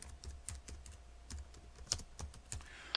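Quick, light keystrokes tap out an address on a computer keyboard, an irregular run of close, crisp clicks with short pauses between bursts.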